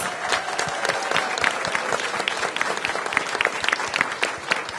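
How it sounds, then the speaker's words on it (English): Sustained applause from a crowd of school staff and guests at a mayoral event celebrating a reading and fitness program, dense steady clapping throughout with faint voices mixed in. "Give them a big round of applause."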